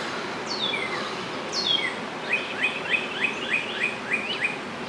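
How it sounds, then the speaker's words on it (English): Birds chirp in bright, repeated high calls over a soft outdoor background on a mountain by Lake Taneycomo near Table Rock Dam, a few sweeping whistles early, then a steady run of short tweets. "The birds are chirping though."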